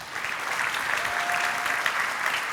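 An audience at an Ignite Talks evening in Aarhus, 2022, gives a speaker sustained applause, a full and steady patter of many hands throughout.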